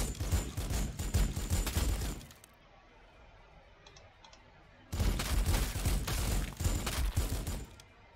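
Units in Warhammer 40,000: Sanctus Reach firing at a target, two dense volleys of rapid crackling shots separated by a quiet pause of a few seconds, close and fairly loud.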